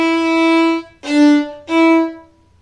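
A violin plays a held note and then two short up-bow strokes, each stopped cleanly with a brief gap, bright and close with rich harmonics and no talking.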